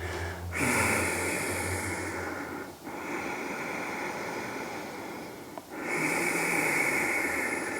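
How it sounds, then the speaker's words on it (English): Slow, constricted breathing through the nose, long raspy hissing inhales and exhales with a light snore-like rasp, three breaths close to the microphone. "Trying to get like a light snore sound or waves of the ocean."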